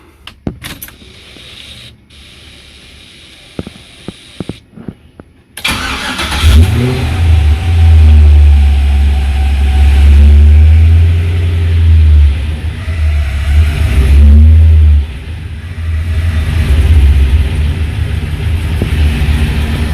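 A GM vehicle's engine cranks and catches after some quiet clicks and rattles, then settles into a loud, steady idle with a couple of brief revs, close by.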